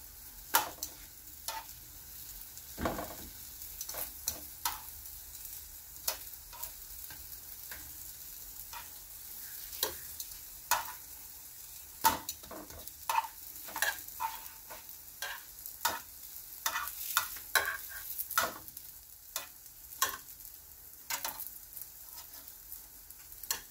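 Banana and oatmeal snacks fry in a pan with a low continuous sizzle, crossed by many sharp irregular clicks and pops from the spatula and spattering oil, close up and with no talking.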